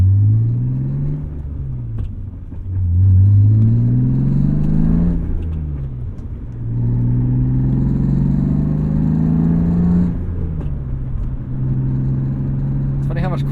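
BMW M3 engine droning and rising through repeated accelerations while driving, with steady road rumble and a gear change around each rise.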